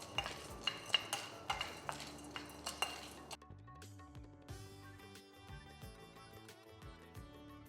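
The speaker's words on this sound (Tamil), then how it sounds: "இதை நம்ம வறுத்துக்கலாம்." Roasted gram being dry-roasted in a pan: a quick series of sharp metallic scrapes and clinks from a spoon stirring the pan, then softer rattling and shuffling, all faint and close.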